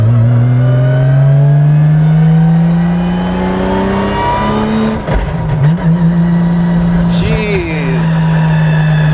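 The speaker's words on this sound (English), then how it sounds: "Just the transmission sound alone is pretty wild." A GReddy-built 1995 Nissan R33 GT-R with a dog-gear transmission revs hard, its strong rising engine note carrying a steady whine, near and loud throughout, with a brief dip and gear change midway before the pitch climbs again.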